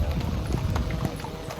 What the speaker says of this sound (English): How about this amount of horse carriages?